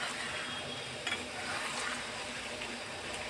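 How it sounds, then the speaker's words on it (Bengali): Food is stirred and fried in a small wok, a steady hiss of frying with faint scraping of a utensil against the pan, fairly quiet throughout. "এবার দেখো খুব সুন্দর করে কিন্তু নাড়ছে"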